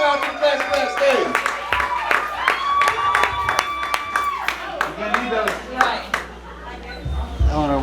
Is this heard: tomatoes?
no